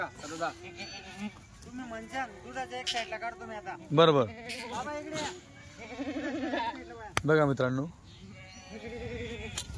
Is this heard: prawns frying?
no